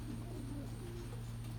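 Sion long-distance racing pigeons coo softly in a loft in Richmond, Kentucky, a low steady burbling hum under faint background noise.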